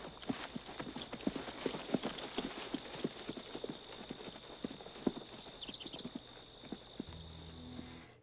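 Horse hooves clip-clop in a quick, steady rhythm close by in the 1992 film Unforgiven, with a faint high whinny-like sound midway and a low hum near the end.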